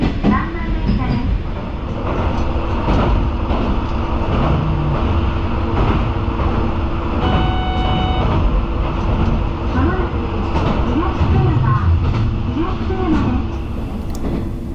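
A JR West diesel railcar runs steadily as an express train from Tsuyama toward Higashi-Tsuyama in Japan, its engine drone and rolling wheel noise filling the cabin continuously, with a faint background voice at times.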